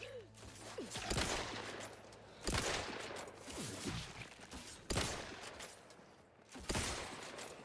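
Rifle gunfire in a shooter video game, several separate loud bursts of shots spaced a couple of seconds apart with echoing tails between them.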